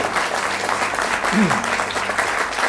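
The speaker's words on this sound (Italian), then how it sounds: "Facciamogli un applauso di incoraggiamento." A television game-show studio audience claps in encouragement, a steady, dense wash of applause that holds at an even level throughout, with a brief voice just audible underneath.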